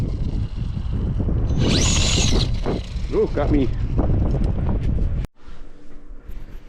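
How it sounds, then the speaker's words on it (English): Heavy wind buffeting a microphone outdoors on a cold day while testing an extended Traxxas Slash 2WD RC car, a constant low rumble, with a voice speaking briefly over it before a sudden cut. "It was really cold and windy."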